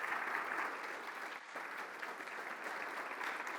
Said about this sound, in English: So as I present this to Curt Coffman, please join me one more time in the round of applause